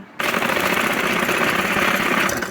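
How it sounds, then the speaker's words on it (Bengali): Sewing machine running steadily and loudly in rapid continuous stitching on a hijab cap along a marked line, starting abruptly after a brief quiet moment and holding an even mechanical rattle throughout. "আমরা দাগ দিয়েছি, দাগ বরাবর সেলাই দিয়ে যাব"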